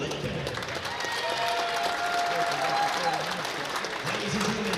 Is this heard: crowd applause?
yes